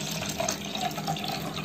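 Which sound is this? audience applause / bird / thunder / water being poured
water being poured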